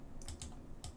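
Two quick pairs of computer keyboard keystrokes, crisp and close, with a short gap between the pairs, over quiet room hiss.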